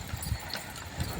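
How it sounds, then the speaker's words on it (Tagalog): Horse hooves clopping on a path while the horse hauls a load of coconuts in Tayabas: a few quick, muffled hoofbeats under steady outdoor rumble, with no talk. "lakas talaga ng kabayo to"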